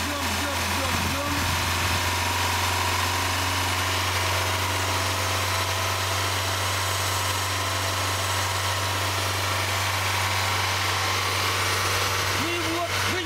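A car engine idles steadily after a cold start in winter, a constant close, low hum with a droning tone running throughout and no talk over it.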